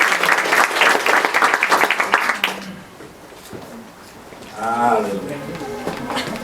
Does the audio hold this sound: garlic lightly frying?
no